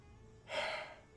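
A single drawn-out breath, soft and close, swelling for about half a second and then fading. It is a yawn, heard alone with no talk.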